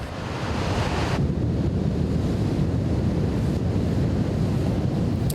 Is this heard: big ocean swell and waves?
yes